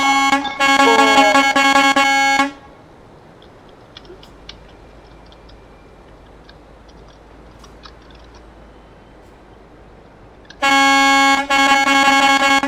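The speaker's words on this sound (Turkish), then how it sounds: "Korna da bayağı olmuş. Bayağı ses çıkarıyor." A loud modified air horn on a truck in the driving game Euro Truck Simulator 2 blasts for about two seconds, then silence with faint clicks, then a second long blast near the end.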